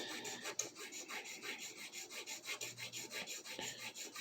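Steady, even rasping of a file on plastic at a Hondo 2 classical guitar during setup work, a soft continuous back-and-forth scrape at close range, alone.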